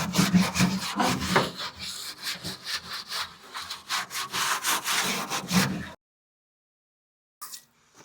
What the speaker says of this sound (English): the concrete starts to cure and you gotta scrub it a little bit